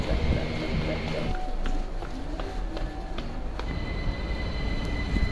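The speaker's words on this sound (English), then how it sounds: "I'm gonna take the first train anywhere." A train rumbles and clatters through a station, with a dense low roar, rattling wheels and faint metallic squeals, close and steady throughout.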